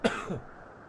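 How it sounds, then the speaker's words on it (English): One person gives a single sharp, close cough that trails off into a rough throaty rasp. "the rest of the day I'm like coughing like this too"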